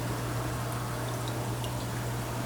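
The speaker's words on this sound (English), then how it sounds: "I'm going to add some balsamic vinegar" Balsamic vinegar pours into homemade spicy pizza sauce meant for water bath canning, a soft, faint, continuous trickle over a low steady hum.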